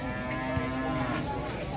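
A Simmental cow gives one long, drawn-out moo with a steady low tone at a moderate distance, over faint farmyard background.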